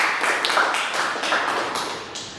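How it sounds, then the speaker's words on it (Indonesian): A school audience at SMA N 1 Pejagoan claps for a teacher, a short burst of scattered hand claps in a room, fairly loud and close, with individual claps distinct and the applause tapering off. "tepuk tangan dong buat Pak Adnan dong"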